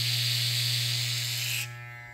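An Andis GTX hair trimmer runs with a steady, buzzing hum and a rattle from a loose part. The sound is close and continuous, then its bright upper edge drops away near the end as the motor note changes.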